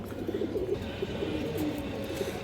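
Small bootfoot pigeons coo in a low, repeated rolling murmur, close by and moderately quiet, with steady background hum and no talk.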